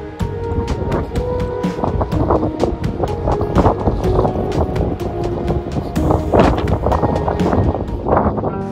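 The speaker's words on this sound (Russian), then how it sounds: "Тут такой ветер." Strong gusty wind on a mountain buffets the microphone in rough, repeated bursts, a loud roaring rumble with sharp crackling hits throughout.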